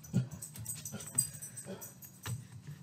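A pet dog whines and whimpers softly indoors, a few faint nasal cries scattered across the moment with some background rustle.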